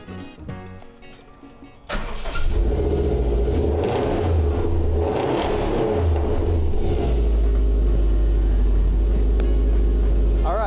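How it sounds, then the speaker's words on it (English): A Subaru car engine cranks and catches after a quiet moment, then settles into a steady, loud, close idle with a low rumble. "We have a Subaru. Let me start it up."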